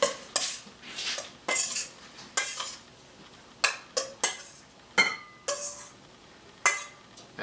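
Hot hydrated pasta is tossed with olive oil and cheese, a metal utensil scraping and clinking against a pot or bowl in irregular bursts, close and crisp, with no talking.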